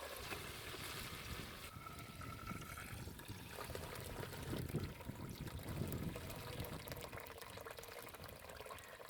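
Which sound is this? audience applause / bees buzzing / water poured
water poured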